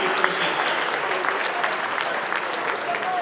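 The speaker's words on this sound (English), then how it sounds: "Please give them a big round of applause." An audience at a town presentation applauds the venue's food-service staff, a steady, even burst of many people clapping throughout, with faint murmurs in the crowd.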